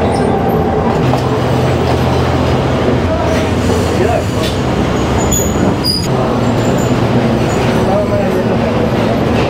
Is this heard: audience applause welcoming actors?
no